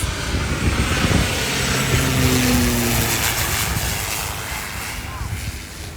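A small propeller plane on an inter-island flight comes in to land over Maho Beach, St Martin, a steady droning engine roar held fairly loud over wind and beach noise, slowly fading toward the end, with voices talking underneath.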